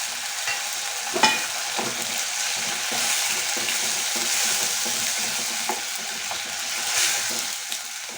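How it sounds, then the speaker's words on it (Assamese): Sesame paste and fried onions sizzle in hot oil in a pan, a steady frying hiss with occasional stirring scrapes and clicks throughout, close and fairly loud with no talking. "এইখিনিও এতিয়া আমি কেঁচা গোন্ধটো যোৱালৈকে অলপ সময় ভাজি ল'ম"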